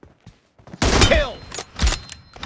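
A single sharp M24 sniper rifle shot in BGMI cracks loudly, followed by a short echoing tail and a few softer thuds.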